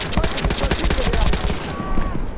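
Rapid automatic rifle gunfire in Battlefield 1 rattles in a dense, continuous burst, loud and close, with the shots blurring together.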